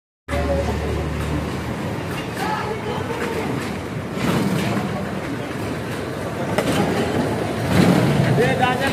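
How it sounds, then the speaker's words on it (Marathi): A small ride train at a water park arriving, a steady rumbling roll with some clattering and rising motion noise, while people talk over it. "तर ट्रेन आलेली आहे आणि आपण ट्रेन मध्ये बसणार आहोत"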